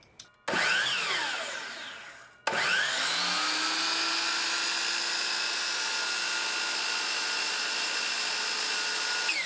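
A Dewalt DWS779 miter saw motor whines up loud and near, cuts off after about two seconds, then spins up again and runs steadily, a high tonal whir with no talking.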